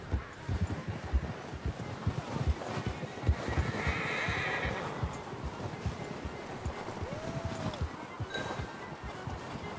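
A horse whinnies amid steady clip-clopping hooves and rustling, with a long neigh rising near the end, all with a synthetic game-like quality, from Red Dead Redemption 2.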